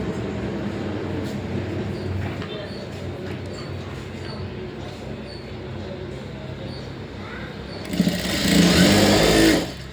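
Sewing machine running as blouse lining is stitched onto the main cloth, a steady close mechanical whir under faint background, rising to a louder burst of fast stitching near the end.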